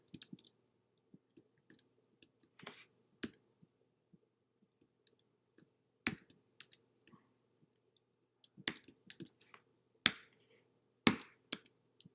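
Keys tapped on a computer keyboard while CSS code is entered, sparse quiet clicks scattered irregularly, a few sharper louder strokes among them, close and alone over a faint steady hum.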